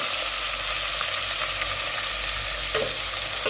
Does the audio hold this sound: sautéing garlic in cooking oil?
yes